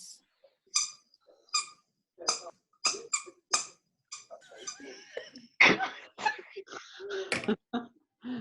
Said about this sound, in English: Can you hear squeaking in the background? Because the dog is playing with a toy.